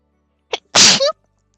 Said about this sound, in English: I may sneeze in a second.